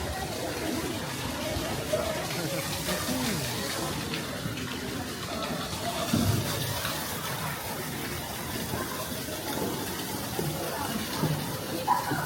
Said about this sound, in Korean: 물소리 듣기 좋은데?